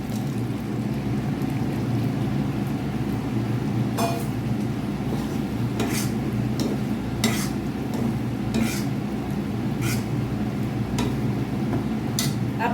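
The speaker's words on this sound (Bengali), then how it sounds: "কচু ভালো করে মশলার সাথে কষানো হয়ে গেছে" Fried taro root is stir-fried with spices in a pan, giving a continuous low sizzle with repeated sharp scrapes and knocks of a utensil against the pan at irregular intervals, without any voices.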